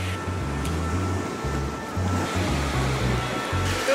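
Surf on an Australian beach, a continuous rushing wash of waves close by with a low rumble underneath, steady and fairly loud with no voices.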